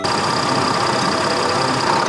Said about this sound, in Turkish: Bravo! Bu bir damperli kamyon.